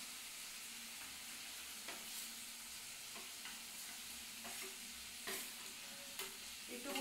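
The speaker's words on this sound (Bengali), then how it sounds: "এর মধ্যেই আমি পনিরগুলো দিয়ে দিচ্ছি।" Paneer cubes added to a hot pan and frying with spices and green chilli, a continuous sizzle broken by sharp stirring scrapes and clatters at irregular intervals, with no talking.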